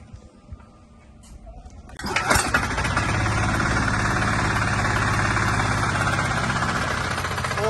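Quiet rustling, then the small engine of a mini tractor built from a walk-behind tractor catches after a pull start with the decompressor engaged and settles into a loud, steady, chugging idle.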